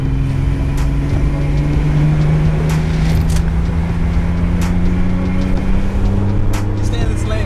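BMW E34 535i riding on new BC coilovers drives a lap, its engine a steady loud low drone with rising tones throughout, passengers talking over it.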